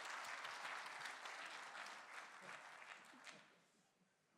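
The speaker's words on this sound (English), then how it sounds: "Give them a round of applause." An audience at a tech summit applauds, a dense, sustained wash of clapping that holds steady and then tapers off near the end, heard from within the room.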